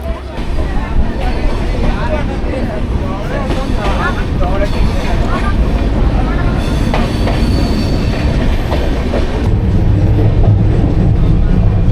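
Kanchanjungha Express passenger train (Sealdah–Silchar) running near Ahmadpur Junction, with a steady loud rumble and rhythmic wheel clatter throughout, joined by faint squeals and a background murmur of voices inside the coach.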